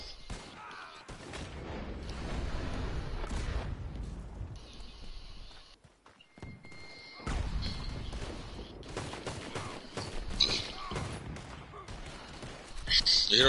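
Cannon fire echoes through a battle, heavy booms and crackling blasts repeating across several seconds amid dense noise, with people talking over some of it.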